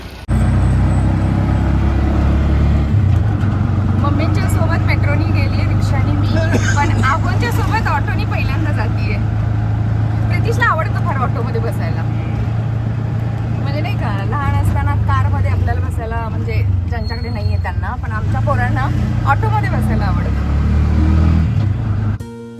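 A Rapido AC car rolls up on a busy street, a steady low engine rumble with brief revving, surrounded by other traffic and crowd babble, with people talking nearby throughout.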